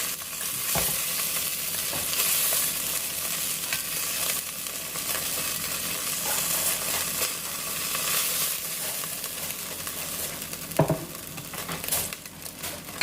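Sausages browning in a frying pan give a steady, close, busy sizzle and crackle that continues without letup, with a couple of brief clatters from the pan.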